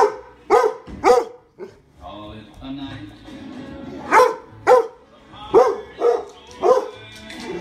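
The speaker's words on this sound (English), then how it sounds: "play it as loud as I can on my computer and videotape my dog running around barking" A pet dog barks in repeated loud bursts, close by, at a Nissan Sentra TV commercial playing loudly from a computer, with the commercial's music and talk running underneath.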